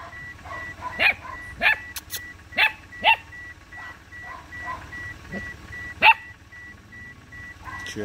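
Puppy barking outdoors on a farm in Jamaica: several short, high yips and barks come in an irregular series over a low rumbling background.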